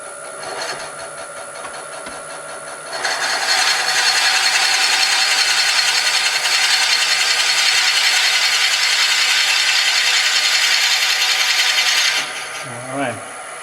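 A lathe turning a wooden grinder spins up into a loud, steady whirring rasp of wood being cut, holding constant for about nine seconds before stopping abruptly, close by.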